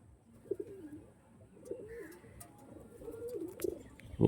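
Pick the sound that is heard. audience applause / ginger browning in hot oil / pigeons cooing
pigeons cooing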